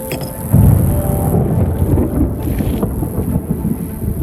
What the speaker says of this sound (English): No, thunder, it's coming.